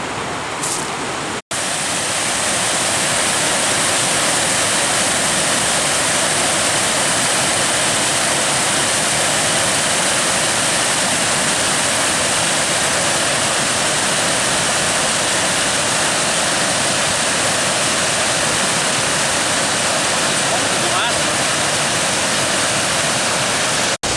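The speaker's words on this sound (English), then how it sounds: "I'm pretty sure this is Seneca Falls. It's absolutely awesome waterfall." Seneca Falls pours into its stream in the Seneca Creek backcountry, a loud, steady roar of falling water that holds unbroken throughout, close and dominant with no voices.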